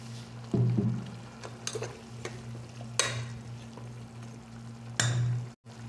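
Fish and spices fry in a pan with vegetable stalks, a low steady sizzle broken by several scraping stirs of a spoon, close and clear.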